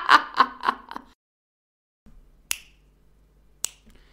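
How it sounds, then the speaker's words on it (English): Sharp finger snaps ring out close and dry: a quick cluster of snapping sounds at the start, a second of silence, then two separate crisp snaps spaced about a second apart. "You wonder why I snap my fingers?"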